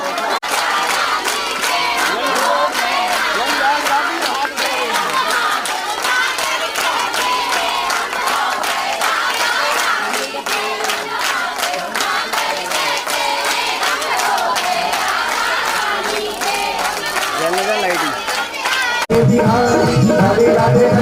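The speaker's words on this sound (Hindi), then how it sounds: "हाथ ऊपर करके एक बार जोरदार तालियां परम पूज्य गुरुदेव" A congregation at a Bhagavat Katha gathering claps hard and cheers in a dense, continuous wall of sound, loud and close, until music cuts in at the very end.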